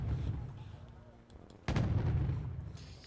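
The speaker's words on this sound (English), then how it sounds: "We've got the mortars firing." Mortar fire in the real-time strategy game Wargame: Red Dragon, a muffled rumble of artillery followed by a sudden loud boom that lingers as a heavy, sustained roar, with no voices over it.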